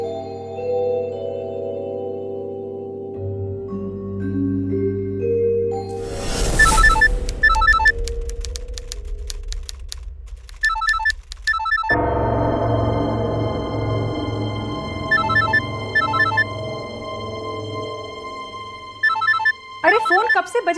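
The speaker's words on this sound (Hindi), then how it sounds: "अरे फोन कब से बजे जा रहा है, उठा तो लो।" A phone ringtone chimes in repeated bursts over background music, with brief louder noise partway through.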